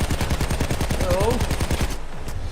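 Rapid automatic gunfire in the Payday 2 video game rattles loudly and steadily for about two seconds as the player is hit, then cuts off, leaving faint background noise.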